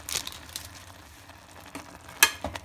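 Maggi noodles with vegetables and masala are stirred in a pan on the stove: a faint background sizzle runs under a few scattered scraping strokes, one sharp clink near the end, and no voice.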